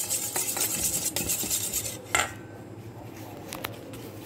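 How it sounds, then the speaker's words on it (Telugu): Two eggs beaten by hand with a wooden buttermilk churner in a bowl for a beetroot cake, giving steady rapid clattering and scraping with a few sharper knocks, close and without talk. "మనం 2 కోడిగుడ్లు తీసుకున్నాం కదా, దాన్ని నేను ఈ మజ్జిగ కవ్వుతో బాగా బీట్ చేసుకున్నానండి."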